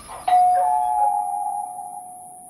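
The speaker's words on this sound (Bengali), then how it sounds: "ট্যাক্সিটাকে দাঁড় করিয়ে রেখে কলিং বেল চাপল সমর।" An electric doorbell rings once with a clean, sustained chime that starts sharply and slowly fades, heard alone in a quiet room.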